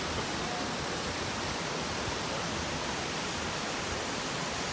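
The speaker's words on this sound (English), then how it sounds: "There's the waterfall." Waterfall near Puerto Vallarta, Mexico, roaring as a loud, constant broadband rush of falling water, unbroken and close, with no voices.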